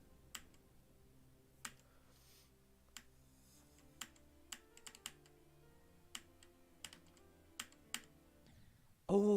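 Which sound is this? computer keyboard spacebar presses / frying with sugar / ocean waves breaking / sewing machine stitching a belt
computer keyboard spacebar presses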